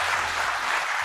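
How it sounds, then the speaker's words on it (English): An audience claps for a Joe Biden speech, a dense, even wash of applause that continues steadily throughout the brief moment. "listen to the brainless Joe Biden supporters who actually clapped to this nonsense"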